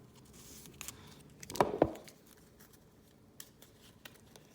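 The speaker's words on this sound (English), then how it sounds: "I need to shuffle." Cards for a Lord of the Rings board game shuffled in a quick riffle, a brief crisp flurry near the middle with a fainter rustle before it, close by and otherwise quiet.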